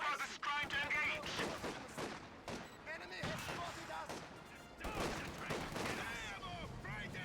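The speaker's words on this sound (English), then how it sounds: "Artillery being called in here by Chewie." Artillery fire and gunfire rumble through a video game battle, with dense overlapping blasts and shots running continuously under chirpy radio chatter and game voices throughout.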